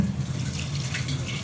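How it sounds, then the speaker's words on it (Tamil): Water poured from a container over chopped vegetables for a vegetable biryani cooked in a pressure cooker, a soft, continuous splashing trickle heard close up and fairly quiet, with no talking. "இப்போ இதில் நம்ம தண்ணி சேர்த்துக்கலாம்."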